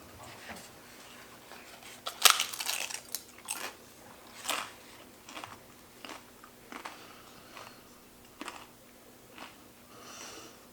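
Crunchy bites into a crispy beef and guacamole chalupa: one loud crackling bite followed by a series of softer chewing crunches, close and alone without talk.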